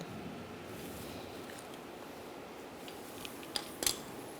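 A new rear shock absorber for a 2004–2009 Mazda 3 has its retaining strap snipped off, giving a couple of short, sharp cutting clicks near the end after a quiet stretch of low background noise.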